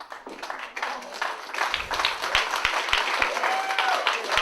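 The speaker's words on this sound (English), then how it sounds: "And the crowd immediately respond with applause for this gutsy woman." Wrestling crowd applauding after a women's match ends in a draw, with clapping building up and growing denser, plus a few sharp thuds and taps mixed in with the crowd noise.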